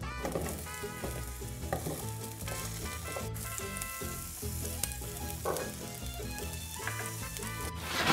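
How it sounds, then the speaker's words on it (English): Onion and garlic sauté in smooth olive oil over low heat. A soft, even sizzle sits beneath prominent background music, with occasional light stirring sounds. "Saute until the onion begins to soften and stir as needed."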